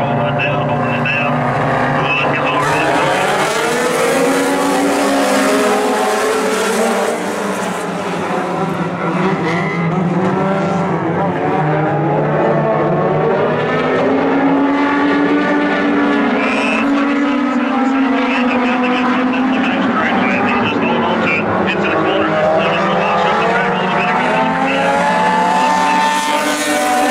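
Super 4 race cars thunder around the dirt oval at Oglethorpe Speedway, their engines loud and close with rising and falling revs as the pack races by. An announcer talks over the engine roar throughout.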